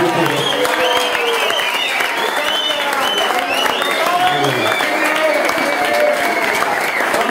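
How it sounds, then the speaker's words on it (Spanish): A crowd applauds loudly and continuously at a live concert honouring a guitarist, dense clapping mixed with cheering and shouting voices that carries on for several seconds. "Yo pido un aplauso"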